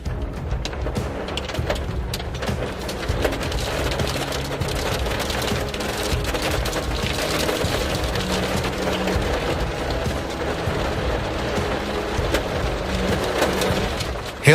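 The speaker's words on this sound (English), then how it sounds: "Hailstones the size of tangerines are pounding down on our small town." Hailstones the size of tangerines pound down on a small town in a steady, dense roar of impacts that stays loud and unbroken throughout, with no voices.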